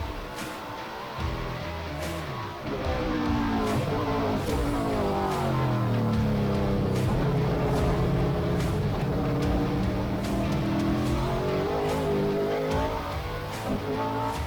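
Race car at Sonoma Raceway powering out of a corner, engine note climbing through gears with repeated upshifts, loud and close, continuous engine roar with rising and falling pitch sweeps.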